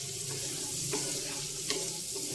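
Onions fry in a pan for a beetroot coconut fry, giving a steady close sizzle with a few brief stirring scrapes. No one speaks over it.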